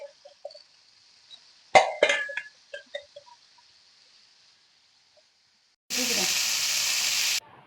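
Dried vanjaram fish pieces frying, opening with a few quiet clicks and a cluster of sharp crackles and pops, then near silence before a loud burst of steady sizzling for about a second and a half.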